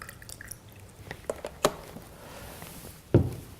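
Water being poured into a container to soak fruits and vegetables: soft splashing and dripping with a few sharper liquid plops, close and fairly quiet, with no voices.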